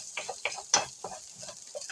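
Ginger frying in a frying pan, catching and sticking as it cooks, with irregular soft sizzles and a few sharp scraping stirs against the pan surface.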